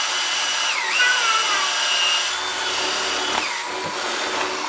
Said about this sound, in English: now if I tilt the drill carefully, you don't snap the drill bit, you go gently to the left and to the right.